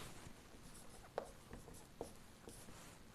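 Writing on a board makes faint, quiet scratching strokes, with a few sharper taps and squeaks at irregular intervals, alone in a quiet room.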